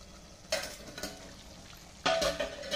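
A spoon scrapes and stirs through thick pav bhaji in a pan, two or three distinct scraping strokes over a soft simmering bubble.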